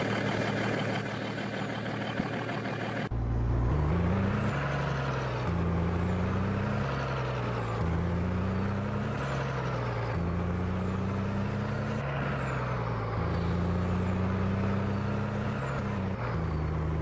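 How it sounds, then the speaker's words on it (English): A Kenworth truck hauling grain in Farming Simulator 22 drones loudly and steadily after a quiet start, its engine note rising and dropping through repeated gear shifts with air-brake hisses between them. "We got our trusty Kenworth here."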